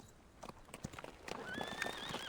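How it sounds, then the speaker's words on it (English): Hooves clip-clop and a horse whinnies as it is reined to a stop on a slope in the video game Reverse: 1999, the footfalls quickening before a wavering neigh rises near the end. "Sergei pulls hard on the reins"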